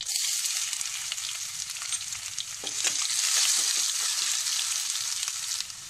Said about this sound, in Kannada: ಇವಾಗ ಜಜ್ಜಿರೋ ಬೆಳ್ಳುಳ್ಳಿ ಹಾಕ್ತಿದ್ದೀನಿ